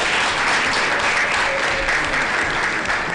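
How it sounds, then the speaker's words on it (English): A roomful of people claps steadily at a Botswana signing ceremony, the dense applause staying loud and even for about three seconds without a pause, alone and without speech over it. "Can we clap?"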